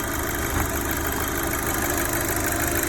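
A 2007 Audi A4 B7 engine idles steadily after a PCV delete kit install, a smooth continuous low hum running evenly throughout with no stumbling, close to the microphone.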